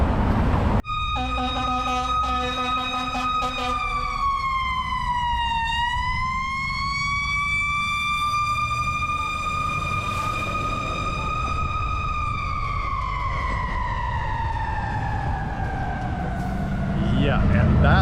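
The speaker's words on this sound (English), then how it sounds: "Yeah, and that was the fire engine." A fire engine siren wails close by and loud, its pitch sliding down and back up as the truck passes, over road noise and traffic along the Long Beach waterfront.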